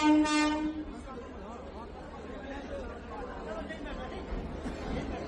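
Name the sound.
train wheels rolling, sound effect in horror story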